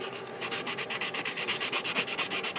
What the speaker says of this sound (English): So right now I'm finishing up with the sanding